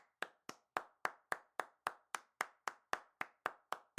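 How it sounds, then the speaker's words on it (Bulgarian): Clapping at a Bulgarian comedy roast event, about fifteen sharp, evenly spaced claps in a steady rhythm, fairly quiet and close, with no voices over them. "Аплодисменти за мен."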